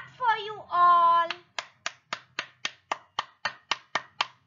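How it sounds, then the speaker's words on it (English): Hand clapping at a nursery school session, about a dozen sharp, evenly spaced claps in a steady rhythm, following a short spoken phrase, close and clear in a quiet room. "And now I must clap for you all"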